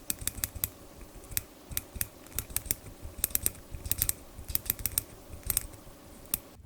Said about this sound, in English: And here is how this bezel sounds.